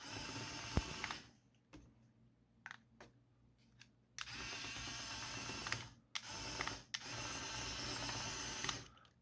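A Zeroids Zintar RC toy robot driven by small N20 gear motors rated around 100 RPM at 6 volts whirs in loud mechanical bursts that stop and start abruptly, with quiet gaps and clicks between runs.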